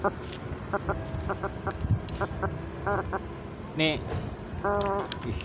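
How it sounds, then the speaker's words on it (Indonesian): A freshly caught fish makes short, frog-like croaking calls, two quick harmonic bursts close by during a fishing trip, while people talk briefly over outdoor background noise. "Tuh bunyinya seperti kodok."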